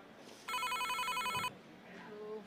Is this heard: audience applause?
no